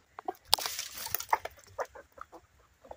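Backyard homestead chickens cluck and chatter while being fed Manna Pro chicken scratch, giving several short, close, overlapping clucks with one sharp squawk near the start.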